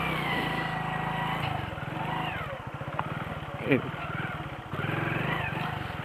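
A motorcycle engine runs steadily in first gear with the clutch half engaged, a loud, close, continuous drone with slight shifts in pitch and a small bump partway through.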